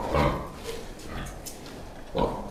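Low, snuffling grunts from piglets about fifteen days old, one burst near the start and another near the end, over a steady barn background.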